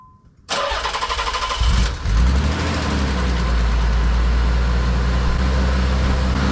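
A Nissan 300ZX engine with newly installed lightweight pulleys cranks briefly, fires up loudly and close, then settles into a steady, rumbling idle.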